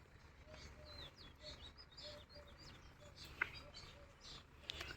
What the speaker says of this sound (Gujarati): અત્યારમાં પંખી કિલલ કરે છે.